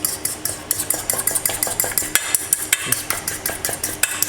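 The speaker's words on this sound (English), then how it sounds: "egg yolks, and whisk them" Egg yolks whisked vigorously in a bowl for a Greek lamb fricassee with dill, a fast steady clatter of whisk against the bowl with a rhythmic beat throughout, close and fairly loud, with one brief spoken word.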